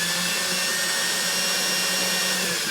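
A power drill spinning a thin 1/16 inch bit while boring a marten box trap, a steady high whine held at constant speed, loud and close with no talk.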